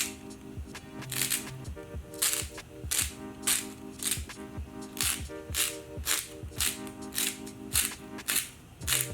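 Salt is ground in a hand salt grinder, producing a quick run of dry, rhythmic ratcheting crunches up close that repeat steadily for several seconds with no talking.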